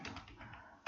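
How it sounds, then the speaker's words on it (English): Quick keystrokes on a computer keyboard while a git command is typed, a short run of soft close taps with a sharper press at the end, quiet and without talk. "let me type it here"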